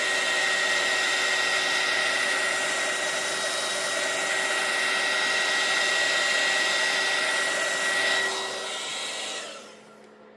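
A handheld heat tool blows hot air to dry paint on a decorated wooden block, a steady loud whooshing roar that runs unbroken for several seconds before winding down.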